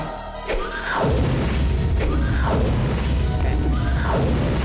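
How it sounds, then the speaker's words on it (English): Fire explosion effect from a sword in the 1994 game Ultima 8, a deep booming whoosh that repeats three times at roughly one-second intervals, loud and alone. "Maybe that's just the sound effect of the fire."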